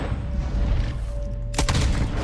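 A single loud gunshot crack rings out in a Red Dead Redemption 2 train robbery, standing out sharply over a steady background rumble about two-thirds of the way through.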